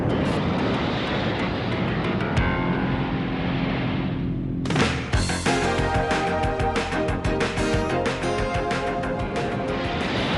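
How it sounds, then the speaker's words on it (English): Grumman F-14 Tomcat jet aircraft, heard as a loud, continuous jet roar that builds and then shifts abruptly midway into a denser, rumbling blast with sharp crackling bursts, with no speech. "the United States Navy relies almost entirely on one remarkable aircraft, the Grumman F-14 Tomcat."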